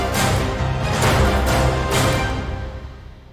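An orchestral demo built from a sample library template swells in dense, full ensemble passages with pulsing accents, then fades out near the end.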